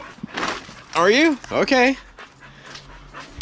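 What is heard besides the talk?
dog whimpering and panting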